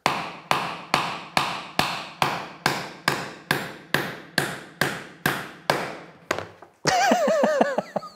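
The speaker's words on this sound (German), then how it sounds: "Wir machen es eher so wie in dem Video und hämmern das jetzt einfach hier so mittig rein" About fourteen sharp, evenly spaced hammer blows drive a small screw into wood, each strike clear and close, followed by a burst of squeaky scraping at the end.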